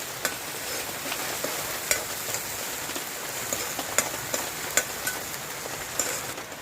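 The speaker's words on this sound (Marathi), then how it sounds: "वाटण छान परतून घ्यायचं" Ground spice paste for a fish curry sautéing and sizzling in a pan, a steady crackling fry with occasional sharper pops and stirring clicks, close and alone with no voices.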